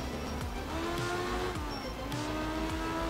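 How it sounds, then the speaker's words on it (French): A rally car in the Art of Rally video game brakes, giving a faint squeal over a continuous engine drone with rising and falling revs and tire noise, no speech over it. "même le petit crissement des freins quand tu freines"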